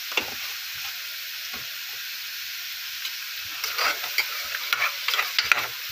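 Potatoes sautéing with turmeric in a pan, a steady soft sizzle close by with irregular scraping stirs growing more frequent toward the end, no talking.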